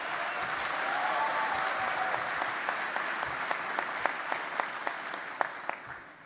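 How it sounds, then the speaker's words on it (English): A banquet audience applauds the hotel staff, a dense round of clapping that swells early and then thins into scattered, sharper individual claps before fading out. "Let's have a round of applause for them."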